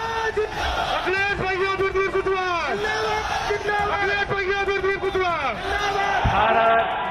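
A large crowd at an outdoor political rally shouts slogans in unison as the Home Minister leads them, with loud, rhythmic, repeated surges of massed voices over steady background hubbub.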